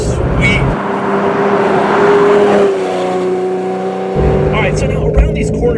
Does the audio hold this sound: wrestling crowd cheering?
no